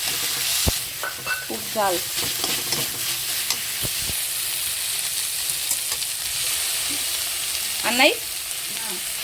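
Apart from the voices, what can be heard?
cooking, frying with stirring in a pan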